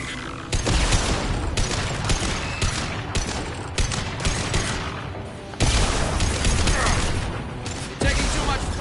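Rapid gunfire rattles through a Mass Effect Legendary Edition firefight, loud sustained bursts with sharp breaks and mechanical clatter, dense and close throughout.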